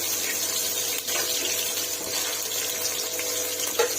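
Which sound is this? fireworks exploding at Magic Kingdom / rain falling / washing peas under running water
washing peas under running water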